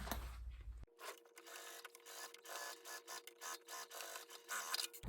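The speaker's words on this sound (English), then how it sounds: "we're gonna head to the machine and stitch just like before, all the way across" A home sewing machine stitches straight across fabric for a tote bag, a close mechanical whirring in short, even bursts with brief pauses between runs.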